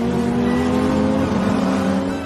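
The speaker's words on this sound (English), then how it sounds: "I floored the accelerator. My car shot forward like an arrow, overtaking dozen vehicles in a row." Car engine revving and accelerating hard in a continuous loud roar with a steady low drone, a dramatized car-chase sound with no talk.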